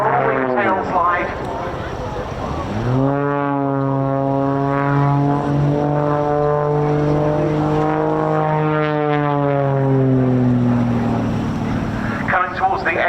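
An Extra 300 aerobatic display plane's propeller engine drones loudly, its pitch sliding down and then holding steady through a tail slide manoeuvre, with a commentator talking over it.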